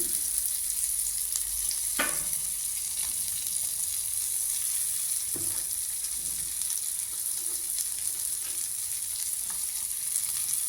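Crushed onions sautéing in a pan for egg curry, a steady close sizzle broken by a few brief scraping stirs and soft utensil knocks.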